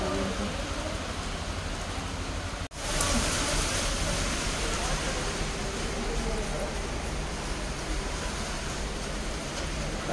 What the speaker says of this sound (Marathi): वाऱ्याचा आवाज पण खूप सुसाट वारा आहे.